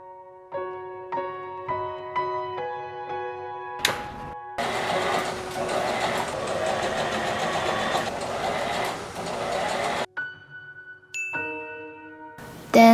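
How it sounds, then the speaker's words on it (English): A serger overlocks the front edge of a silk dress. Its motor runs steadily for several seconds with a dense whirring hum, then stops, and bright clicks and dings from handling the machine come before and after. "Serge the front edge."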